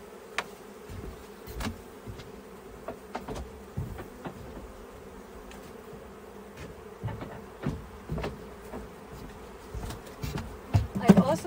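Honeybees buzz steadily around an open hive during a spring inspection by a subarctic beekeeper, individual bees whining close past now and then, with faint handling knocks and brief bursts of speech near the end.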